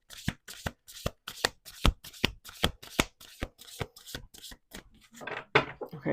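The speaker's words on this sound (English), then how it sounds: "Okay, one last shuffle." A rapid run of crisp card riffles, around fifteen sharp flicks in steady rhythm, close by, ending in a longer, softer bridging shuffle.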